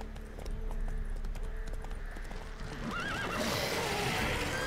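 Galloping horse hooves clip-clop steadily in Witcher 3 gameplay, with a loud whinny rising near the end, all close and continuous with no talk.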